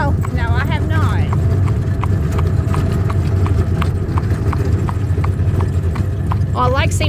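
Steady clip-clop of a Mennonite driving horse's hooves on pavement, regular and close, with people talking over a constant rumbling background.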